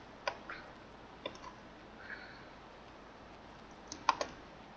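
A handful of sparse, distinct computer keyboard key presses while working in Cricut Design Space, quiet clicks spaced out over a low hiss, with a quick cluster of taps near the end and no voices.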